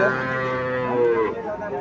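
A Jersey bull calf at a cattle market lets out a close, loud, drawn-out moo with a rough, wavering tone, lasting nearly two seconds.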